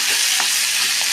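Ginger fries in ghee with a dense, loud, continuous sizzle close up, and a couple of soft stirring knocks.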